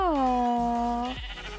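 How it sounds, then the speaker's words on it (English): Sheep bleating in a Minecraft modpack, one clear, drawn-out bleat with a wavering tone, heard up close before it trails off. "And now you should have a brand new baby sheep in there."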